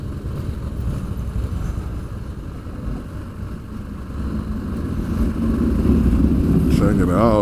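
A Ducati 1199 motorcycle engine rumbles steadily and grows slightly louder toward the end amid the busy outdoor crowd at Daytona Bike Week, with other traffic noise mixed in.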